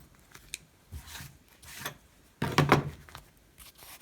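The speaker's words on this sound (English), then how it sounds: "I'm just trimming the excess off the bottom." Scissors snip excess gold trim from the bottom of a costume glove, a few soft separate cuts followed by a louder, closer crunching snip near the end.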